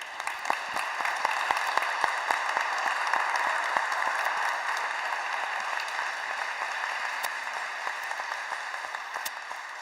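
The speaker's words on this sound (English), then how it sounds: "So one more applause for you all." A conference audience applauds steadily for about ten seconds, a dense even wash of many hands clapping at a moderate distance with no talking over it.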